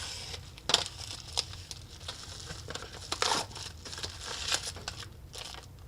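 Package containing a USB cable being cut open, with crinkling plastic and scattered sharp snips and rustles close by at moderate loudness and no talking.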